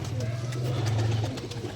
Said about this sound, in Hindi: बड़े ही कमाल के उड़े उड़ाए कबूतर है।